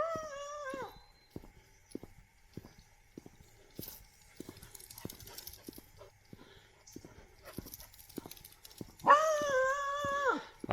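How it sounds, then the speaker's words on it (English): A dog on a hiking trail barks in a quick series of sharp, moderately close barks, opening and closing with drawn-out howls, with little else around it. "Don't bark at him."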